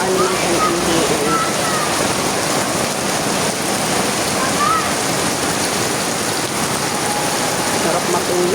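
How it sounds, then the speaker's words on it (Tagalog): Heavy rain falling steadily in a dense, loud, close hiss of drops on surfaces, continuous throughout with faint voices underneath. "Sarap matulog pag ganitong maulan."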